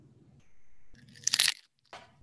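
A crunchy carrot snapped in a single bite close to the mic for ASMR, a sharp brittle crunch followed by a brief chewing crackle in near silence.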